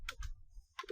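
Short bursts of typing on a computer keyboard, a few quick close key clicks with a brief pause between them.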